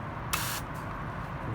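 A garden hose nozzle on its mist setting gives a short, fine hiss of spray lasting about a quarter second, close and moderately loud, followed by a fainter brief burst.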